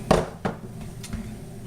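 A textured meat hammer pounds schnitzel in a small home kitchen, landing three or four sharp, close thuds at uneven intervals with quiet gaps between the strikes.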